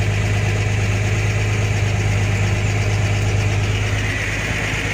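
A Ford F75 engine runs steadily with a constant loud low rumble and hum as the clutch is released, with no talking.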